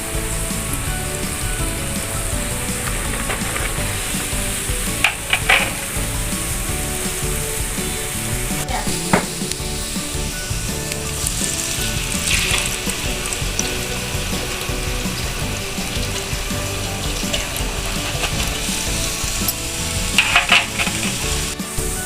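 Kue loyang batter clinging to a metal mould deep-frying in hot oil for a Minang snack, a dense, steady bubbling sizzle close by with a few sharper clinks of the mould, no voices.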